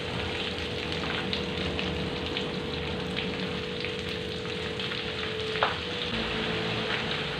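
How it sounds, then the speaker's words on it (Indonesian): Tofu cooks in a pan with sweet soy sauce, giving a steady close sizzle and crackle as it is stirred, with one brief sharp scrape near the end. "kita aduk-aduk sampai rata."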